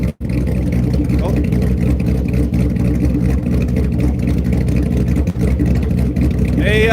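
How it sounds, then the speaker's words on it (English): A car engine with stock manifold and a 3-inch straight pipe exhaust without mufflers idles after a cold start, a loud, rough, steady rumble with people talking over it. "We'll dedicate this cold start to Dave right here."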